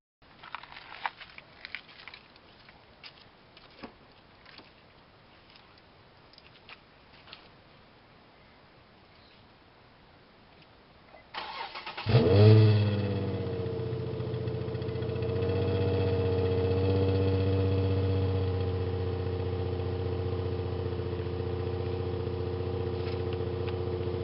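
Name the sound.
car engine cold start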